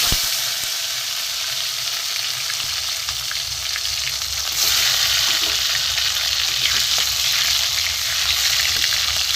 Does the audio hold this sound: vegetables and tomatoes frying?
yes